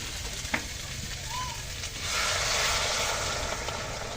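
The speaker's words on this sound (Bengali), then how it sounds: "দেখুন ফুটন্ত জল দিয়ে দিলাম, দেখুন সাথে সাথেই কিন্তু তরকারিতে জাল আবার উঠে গেছে।" Hot boiling water is poured into a pan of fish curry frying in oil. A quiet background hiss surges halfway through into a loud, close, steady sizzle.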